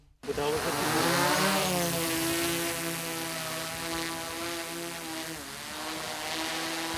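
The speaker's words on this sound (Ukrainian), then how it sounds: "Кілька хвилин і звідси вже полетить дрон сканувати донецькі поля та лісосмуги." A reconnaissance drone in the Donetsk area starts up and takes off. Its motor whine rises sharply from silence into a loud, steady propeller drone, and the pitch bends as it climbs. People talk underneath.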